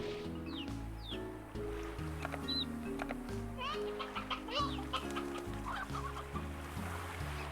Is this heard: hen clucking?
yes